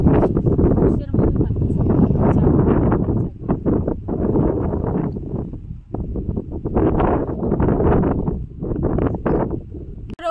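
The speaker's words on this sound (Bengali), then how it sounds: "উত্তরে হাওয়া দিচ্ছে।" Strong north wind blowing across open mustard fields in a rural village, a continuous loud roaring buffet of wind noise on the microphone with gusty swells and brief lulls throughout.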